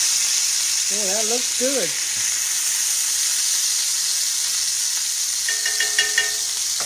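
Hamburger steak sizzles steadily in a lightly greased pan just after being flipped, a constant bright frying hiss running throughout while a voice briefly comments over it.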